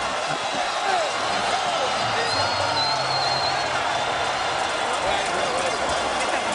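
A boxing arena crowd roars steadily at the Salido vs. Lopez rematch as fans rise to their feet, a dense and continuous wall of cheering that sits loud and close from start to finish.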